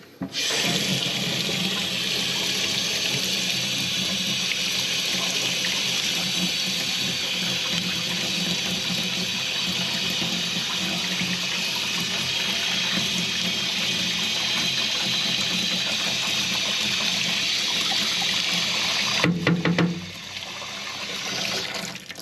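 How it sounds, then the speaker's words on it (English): Water sprays and splashes steadily over a neglected, muddy steam boiler, a loud continuous hiss-like rush that holds for about twenty seconds before briefly faltering and trailing off near the end. "Splash a little water off it."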